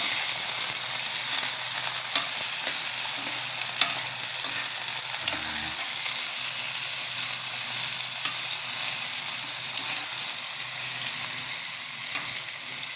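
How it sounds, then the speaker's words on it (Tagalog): Ingredients for goat caldereta sauté in a pan with a loud, constant sizzle and occasional stirring scrapes that run steadily from start to finish. "Gisa-gisa lang muna natin."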